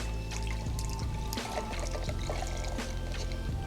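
Dark beer pours into an Instant Pot with beef stock, a soft continuous splashing trickle at close range.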